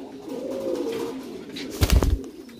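A gold arch angel fancy pigeon coos softly in a long low murmur at a village pigeon farm, followed by a brief louder burst of rustling and thumps near the end.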